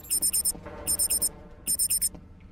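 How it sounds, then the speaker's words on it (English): A high electronic beeping warning from the video game Batman: Return to Arkham Asylum, in three quick bursts of four beeps each, evenly spaced and loud, over a low background hum. "I can't run, it starts beeping."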